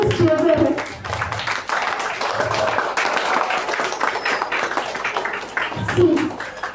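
An audience applauds at a university entrepreneurship talk, a steady wash of clapping close and fairly loud for several seconds, with voices mixed in.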